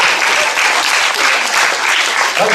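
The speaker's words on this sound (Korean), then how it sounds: "한번 박수 한번 다시 한번 쳐보세요" A lecture audience claps steadily and enthusiastically for a couple of seconds, dense and continuous, with no voices standing out.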